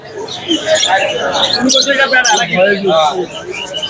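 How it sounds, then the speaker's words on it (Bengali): Lovebirds chirp in high, busy twitters at a crowded open-air bird market, close and loud amid a constant hubbub of people talking nearby. "ভাইজান আমরা এখানে কিছু লাভবার দেখতে পাচ্ছি"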